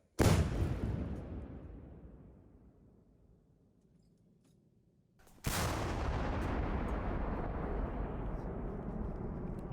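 Two heavy artillery blasts several seconds apart, each a sharp boom with a long rolling rumble, the second followed by a sustained roar.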